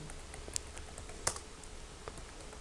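Keystrokes on a computer keyboard while a password is entered into a Linux terminal, a handful of sparse, quiet clicks with a couple of sharper taps, close and alone against a faint steady hum.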